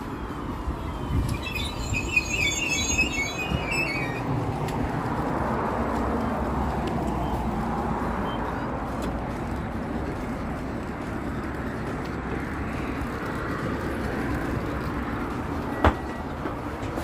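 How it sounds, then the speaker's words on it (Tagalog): A train passing through Gothenburg, Sweden, a sustained broad rumble of wheels and carriages heard from a balcony, with faint high squeals early on and a steady roar throughout. "Kita yung train nila."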